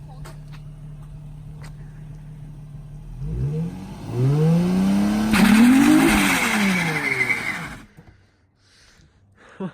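Budget Nissan 350Z drift car with coilovers launched on a clutch dump, engine revving up loudly with rising, wavering pitch and tire noise before cutting off abruptly, voices talking around it.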